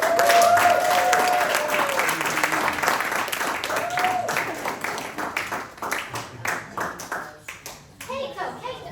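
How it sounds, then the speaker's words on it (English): Audience applause for a talent show performer in a lakeside community event, dense clapping at first that thins into scattered claps, with a whistle and a voice over it. "A round of applause, please,"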